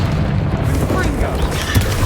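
A Confringo fire-blast spell bursts in Hogwarts Legacy as a heavy, rumbling boom amid constant battle noise and other effects, with spell impacts merging into a thick, continuous roar.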